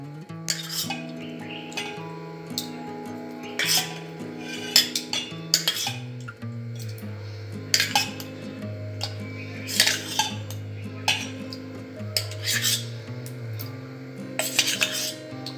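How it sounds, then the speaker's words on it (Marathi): A spoon scoops thick buffalo-milk curd into a vessel for Punjabi malai lassi, giving repeated clinks and scrapes of metal on the pot in an uneven rhythm, close and alone. "त्याला मी आता ह्या भांड्यामध्ये दही काढून घेणार आहे लस्सीसाठी"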